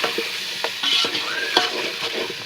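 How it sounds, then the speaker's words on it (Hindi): Mutton tahari curry with spices fries in a pan, a continuous close sizzle overlaid with brisk scraping and stirring strokes. "अच्छे से भून लेना।"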